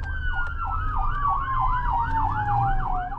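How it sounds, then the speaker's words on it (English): A loud police siren in Vancouver wails in fast, repeating rising-and-falling sweeps over a steady low engine rumble, close by and continuous. "We're going to go code 3, lights and sirens."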